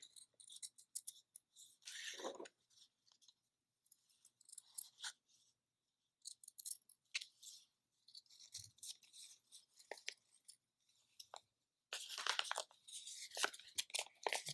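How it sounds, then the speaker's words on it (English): Scissors cut fabric for a bean bag frog in short crisp snips and rasping bursts, with brief pauses between runs of cuts and a denser flurry near the end, close and fairly quiet. "I'm going to go back up to the head where I cut the extra fabric away, but I didn't quite finish cutting around the shape"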